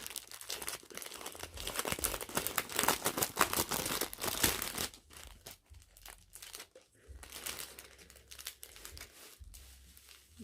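Paper packaging crinkles and rustles close by, dense and busy at first, then in shorter bursts with brief pauses.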